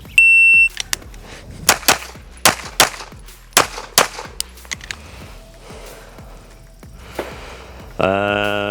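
Pistol shots fired in quick pairs during a shooting transition drill, sharp loud cracks spaced across the run, with a timer beep at the start and a buzzer tone at the end.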